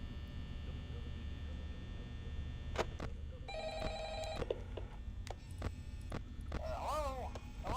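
A telephone rings in the Five Nights at Freddy's horror video game, a short electronic trill sounding once mid-way over low background hum, with sharp clicks and a brief squeaky sound around it.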